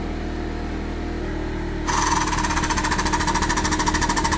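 A hydraulic bead breaker clamped on a tire starts to push, shifting from a steady motor hum to a loud rapid pulsing chatter that keeps an even rhythm close by.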